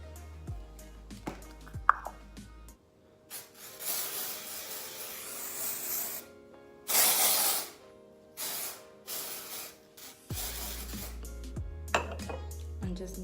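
Batiste Fruity and Cheeky Cherry dry shampoo sprayed from an aerosol can, several loud close hissing bursts of a second or two each, with light clinks and handling noises in the quiet gaps between.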